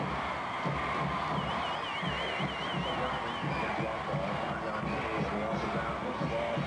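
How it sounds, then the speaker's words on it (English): West Orange-Stark fans chanting steadily in the stands at a high school football game against Rockwall in the fourth quarter, a dense, continuous wall of crowd noise heard from a distance with a faint pulsing undertone. "You can hear the crowd from West Orange Stark chanting."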